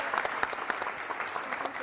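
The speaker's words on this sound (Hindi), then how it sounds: "जोरदार तालियां बजाइए, जोरदार तालियां प्रिया जी के लिए" Audience at a university Holi quiz show breaks into steady, dense applause, many hands clapping together at an even level throughout, with faint voices underneath.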